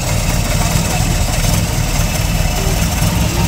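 A used car's engine idles at an outdoor used-car fair in Caruaru, giving a loud, steady, rumbling drone that holds evenly throughout with no breaks.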